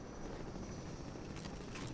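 A helicopter in Half-Life 2 drones steadily at low volume, a continuous rotor and engine rumble with no break.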